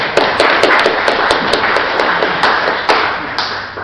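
An audience in an Islamic tourism discussion forum claps for the mayor: a loud, dense round of hand claps with sharp individual slaps standing out, sustained for several seconds.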